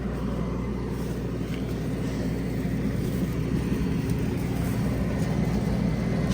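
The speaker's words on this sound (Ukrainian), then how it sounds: "Потужний комбайн 590. -й. Дуже подобається." A CAT Lexion 590R combine harvesting corn runs close by, its heavy engine giving a steady, loud, broadband drone with a low hum that holds without a break.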